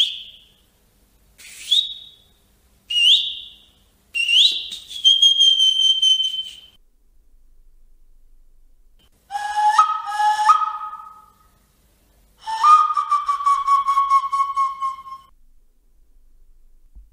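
Maori karanga weka bird-call whistle instrument sounding a series of short, rising whistled calls followed by longer trilling phrases with clear pauses between them, clean and close.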